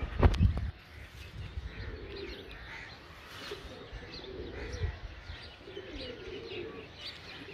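Pigeons coo in soft, repeated low bursts outdoors, with faint chirps and a brief flutter of activity near the start, the whole scene fairly quiet and distant.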